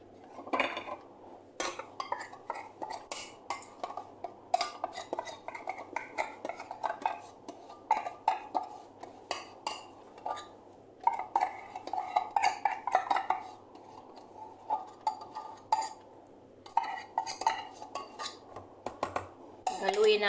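A condensed milk mixture for a no-bake blueberry cheesecake is stirred continuously in a bowl, with a utensil scraping and clinking against the sides. A voice talks under it for part of the time.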